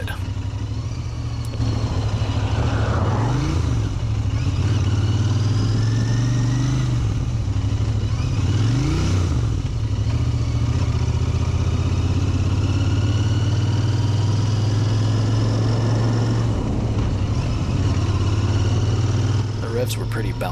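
A Royal Enfield Interceptor motorcycle engine drones loudly and steadily, with repeated swells in pitch as the revs rise and fall through downshifts on a ride. The revving is heard up close over a constant rumble.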